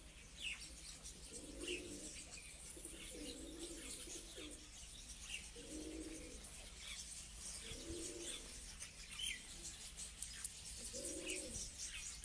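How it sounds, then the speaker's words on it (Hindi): Pigeons from a competition flying loft coo in soft, repeated phrases about every two seconds, fairly faint against a steady outdoor hiss, with a few faint chirps from other birds above. "अहमद भाई के पास कबूतर तो बहुत ज़्यादा है"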